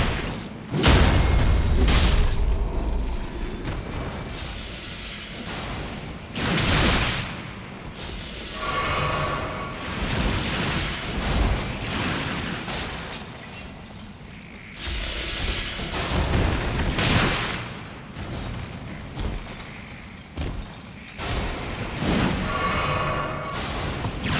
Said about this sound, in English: Somehow, I don't think that guy will stop bombarding me.